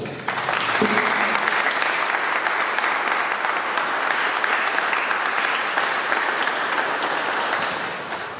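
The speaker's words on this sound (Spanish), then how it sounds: "Les brindamos un fuerte aplauso." Loud, sustained applause from a church congregation for a couple celebrating their golden wedding anniversary, a dense, even roar of clapping that holds steady for several seconds before easing slightly at the end.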